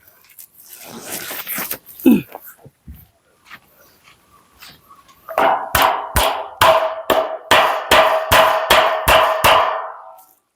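A run of about ten sharp, evenly spaced hammer strikes on steel, loud and close, follows a stretch of scraping and rustling.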